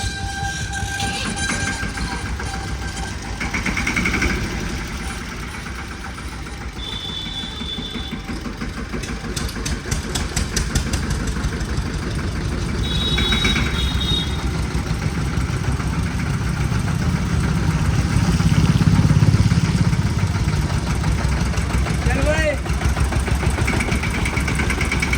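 Tractor engine running along a road: a steady, rumbling mid-low drone that swells slightly as it nears, with faint bright ticks and clatter on top.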